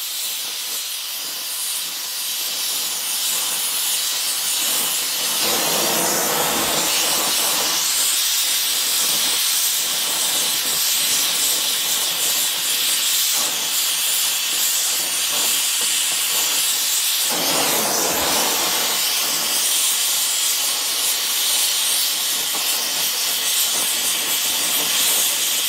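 A torch brazes copper to steel on a 1930 Peugeot inlet manifold, a steady roaring hiss of flame throughout with a couple of brief surges in intensity.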